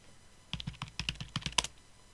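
Keys clatter on a computer keyboard in a short burst of about a dozen quick, close taps, with a brief pause near the start and silence at the end.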